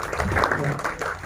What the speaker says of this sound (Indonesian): Boleh kasih tepuk tangan untuk David ya